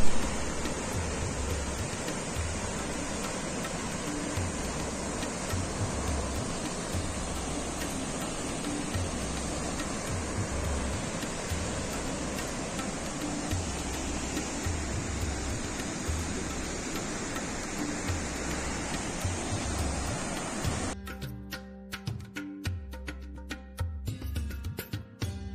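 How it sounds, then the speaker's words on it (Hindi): The Kheri waterfall and the Bhagirathi river rush in a loud, unbroken roar of falling and flowing water that fills the whole stretch, with the wash turning choppier near the end. "हम पहुंच गए हैं खेड़ी वाटरफॉल के पास।"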